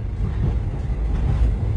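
Golden Chariot luxury train running on rails, a steady loud low rumble and rattle of the moving carriage, continuous with no voices.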